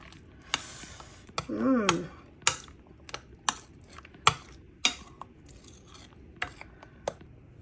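Mango ice cream mixture being mixed in a bowl, with scattered clinks and scrapes of a utensil against the bowl and a brief swirling rattle, close and fairly quiet.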